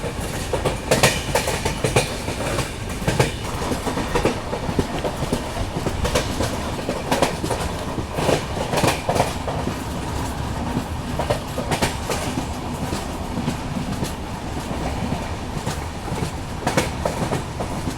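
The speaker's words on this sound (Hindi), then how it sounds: "हमारी ट्रेन धीरे धीरे अब लोंडा जंक्शन की तरफ पहुँच रही है" The Ajmer Mysuru Express rolling toward Londa Junction near the Western Ghats, heard from inside with a continuous loud rumble and steady clickety-clack of wheels over rail joints.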